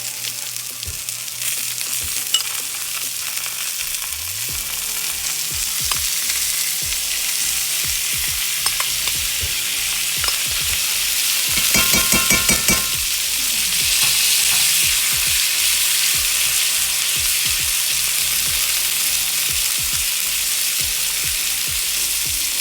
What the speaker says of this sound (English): We're gonna put in 2 tablespoons of butter. We're gonna get those herbs that we reserved out of our brine along with the garlic.